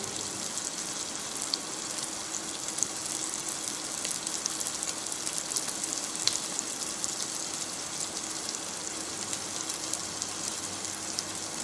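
Vegetables sautéing in a pan for brown stock, a steady close hiss and crackle of frying that holds at an even level throughout, with no voices.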